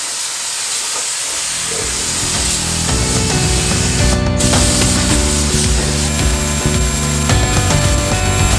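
Spray paint hissing steadily onto the welded front end frame of a Ford F100 truck getting a Crown Victoria front end swap, a loud continuous spray with a brief burst of higher hiss midway, no talk.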